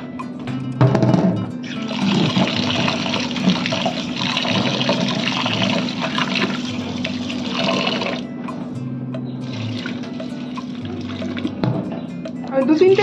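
Red lentils being washed by hand in water in a home kitchen, a steady sloshing and splashing that runs almost the whole time with a short pause, with a voice talking over it.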